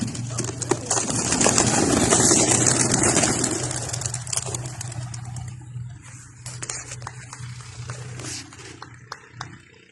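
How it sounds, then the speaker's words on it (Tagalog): Racing pigeons released for a sea-crossing race burst into flight with a loud rush of flapping wings that fades over several seconds, leaving scattered faint flutters and clicks against a steady low hum. "Ayan na po ang ating ibon."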